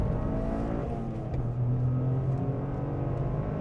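A Toyota GR Corolla hot hatch accelerates hard around the Phillip Island race track, its engine a loud, steady, close drone that holds throughout with a rising note midway.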